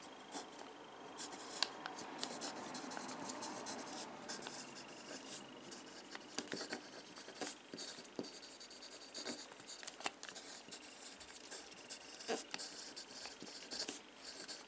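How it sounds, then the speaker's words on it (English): A Montblanc 146 LeGrand mechanical pencil with 2B Pentel lead scratches across paper close up, a soft continuous scrape broken by quick ticks and taps as strokes start and stop. "So let's do a quick writing sample."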